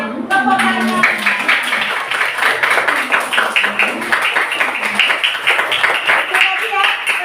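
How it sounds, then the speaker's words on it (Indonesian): Children in a classroom clap their hands in a quick, patterned rhythm, close and fairly loud, with voices speaking and chanting over the clapping. "Tepuk tangan."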